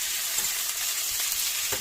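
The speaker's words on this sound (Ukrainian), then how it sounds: "Обсмажити треба її до прозрачності" Chopped onion frying in a pan as it is cooked down until translucent, a steady close sizzle with faint stirring clicks throughout and no voices.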